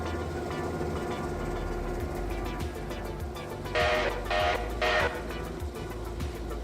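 A heavy train pulled by two locomotives in the railroad game Railroader, a steady rumbling run with rhythmic clicks over the rails and a few brighter whooshing surges near the end.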